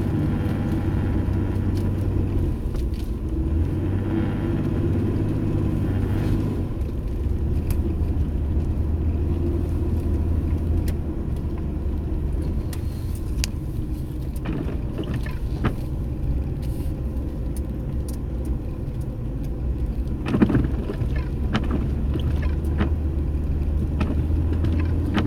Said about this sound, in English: Putting it in 4-wheel drive.